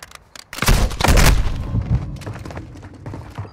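Gunfire and booming blasts erupt in Call of Duty: Modern Warfare II, a loud heavy burst that rolls into scattered thumps and cracks fading over a few seconds, with no speech.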